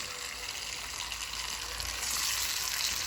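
Fried vegetables tossed into a spiced soybean curry with pumpkin, giving a steady broadband sizzle that swells louder toward the end, close and continuous with no talking.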